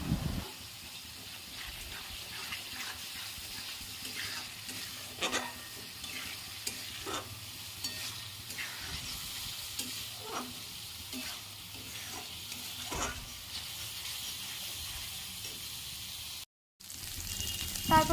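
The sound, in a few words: frying spice paste with turmeric for chital fish kalia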